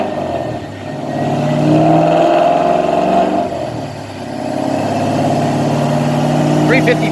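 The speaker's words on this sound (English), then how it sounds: "now we're going to do a wide open throttle pull" A 2018 Mustang GT running on E85, its engine droning loud and steady under load during a wide-open-throttle pull, with a voice speaking over it.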